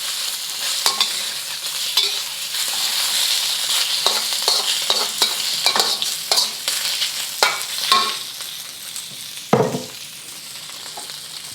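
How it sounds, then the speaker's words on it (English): Shrimp and prawns fry in a hot wok for char kway teow, a continuous sizzle broken by scraping and clattering stirs of the spatula, close and fairly loud, with no talking. "Adding the shrimp, prawns."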